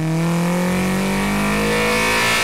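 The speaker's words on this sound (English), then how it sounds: "having a velocity stack just made the induction noise absolutely crazy" A car engine fitted with a K-Tune velocity stack revs hard, its loud, close induction roar climbing steadily in pitch as the throttle is held open, with no talking.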